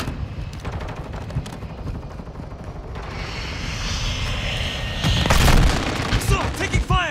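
Gunfire in the video game Call of Duty: Modern Warfare II rattles in dense, continuous bursts with booming impacts, swelling into a louder volley about two-thirds through, all under a steady battle din.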